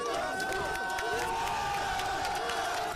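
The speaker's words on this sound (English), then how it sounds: "pro-Israeli protesters cheer as authorities walk in" A crowd of pro-Israeli protesters at UCLA cheering as authorities walk in, a sustained wash of voices and shouts at steady loudness, with a tonal drone running through it.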